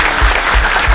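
Dense, loud applause from an audience at a ceremony honouring Haitian national police officers, continuous and close with no gaps across the brief moment.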